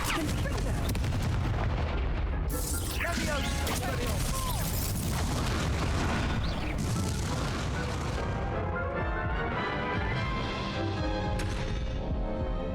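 In the Hogwarts Legacy video game, the Confringo explosive spell sets off a dense barrage of sharp booming blasts and crackling impacts that overlap and fade, loud and close throughout.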